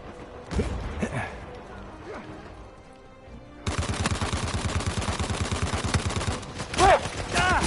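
Dense, rapid gunfire from a video game fires in a continuous burst for several seconds, preceded by a quieter stretch with a voice speaking.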